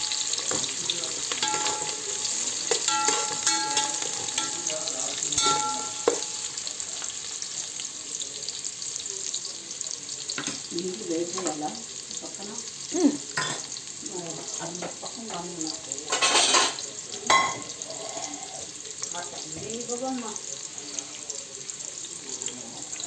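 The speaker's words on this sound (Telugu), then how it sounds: "గోలుతూ ఉన్నాయి చూడండి ఉల్లిగడ్డలు మంచిగా" Onions for veg biryani fry in a pan with a continuous close sizzle, broken by repeated scraping and clattering as they are stirred, and a voice speaks intermittently over the cooking.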